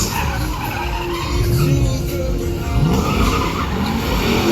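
A hand-controlled Hot Wheels drift car at a MotorEx drift show slides with long, loud tire squeals over a roaring engine, the pitch sweeping up and down as the car swings through the drift.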